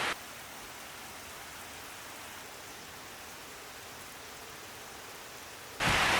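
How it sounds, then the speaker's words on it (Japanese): Rain falls steadily outdoors in a soft, even, hissing wash that stays constant throughout, with a sudden louder burst of noise at the very end. "今日は雨が降って雨の音がちょっとうるさいかもしれませんけれども"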